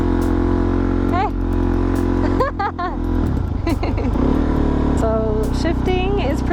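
A Suzuki DRZ supermoto's single-cylinder engine runs steadily and climbs in pitch several times as gears are shifted, with someone talking and exclaiming over the engine noise.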